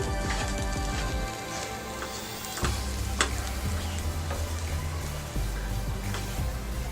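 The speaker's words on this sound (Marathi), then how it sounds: "दुसऱ्या बाजूने पण व्यवस्थित शिजवून घेऊया." Uttapam frying on a pan over a low flame as its second side cooks, a steady close sizzle with spatula scrapes and brief knocks breaking the constant hiss.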